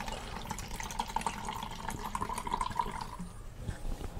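Water running into a pot for soaking hard acrylic paint brushes, a steady close trickle with faint splashing, no talk.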